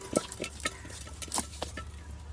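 A knife cutting a scaled fish into round pieces, heard as scattered soft clicks and knocks against a board, with faint background hum.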